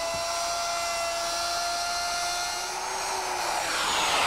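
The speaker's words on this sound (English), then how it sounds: "To mill them, I'm going to use my router, which I've set up with a half-inch straight cutting bit" A router fitted with a half-inch straight bit mills a dado, guided by a straight edge clamp, for a bedside cupboard; its high, steady whine stays loud and continuous throughout, with a slight pitch dip near the end.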